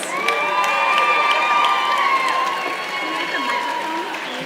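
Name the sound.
audience applause for Lifetime Achievement nominees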